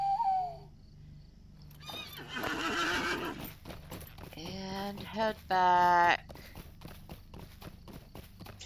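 Horse in Lord of the Rings Online neighing with a sharp whinny, then hoof clip-clop and a second, louder whinny, all close and clear beneath brief speech.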